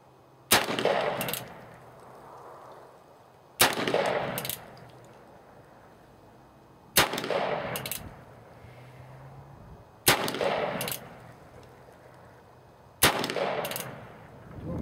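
Five loud, sharp shots from a Pietta 1873 Colt .45 Single Action Army revolver loaded with black powder, fired outdoors at intervals of about three seconds, each blast followed by a rolling echo.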